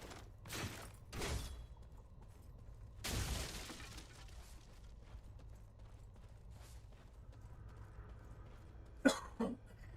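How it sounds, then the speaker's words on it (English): Several dry coughs from one person, with a longer burst in the middle and a couple of sharp final coughs, sounding near but fairly quiet over faint game background noise. "Sorry about the coughing, guys."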